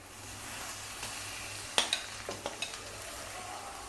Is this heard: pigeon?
no